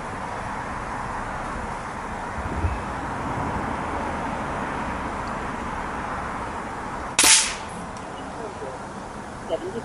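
A short-barrelled FX Panthera Compact .25 calibre air rifle fires a single sharp, loud crack near the end of a steady hissy background, with a faint tick just after.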